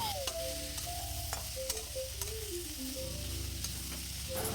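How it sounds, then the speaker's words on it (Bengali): Spiced vegetables with ginger paste frying in a pan, a continuous close sizzle with intermittent spatula taps and scrapes as they are stirred, with no talking. "খুন্তি দিয়ে একটু নাড়াচাড়া করে দেবো যাতে সবজির মধ্যে মশলাগুলো মিশে যায়"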